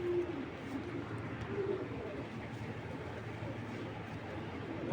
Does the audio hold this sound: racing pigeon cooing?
yes